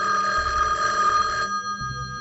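A telephone rings in a film scene with a steady electronic bell tone repeating in short bursts, clear and close.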